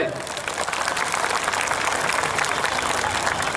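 A crowd at a political rally in Vagharol claps to welcome Alpesh Thakor, sustained dense applause running throughout at a steady level, with some voices mixed in.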